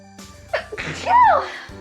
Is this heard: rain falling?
no